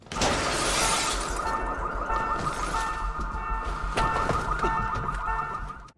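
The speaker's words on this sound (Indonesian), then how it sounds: "Sayang sekali alarm anti maling di mobil itu terlalu keras" A car anti-theft alarm blares continuously, a loud warbling electronic tone with a harsh crash-like burst at the start.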